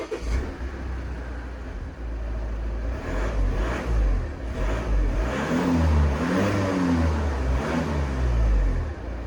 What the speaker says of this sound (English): So now the car is started up on the road and we are making some distance